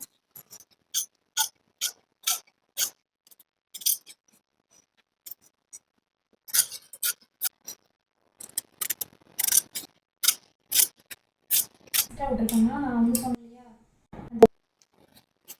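Scissors cutting silk fabric for a girl's skirt: crisp, close snips in short bursts separated by pauses, with a brief rustle of cloth near the end.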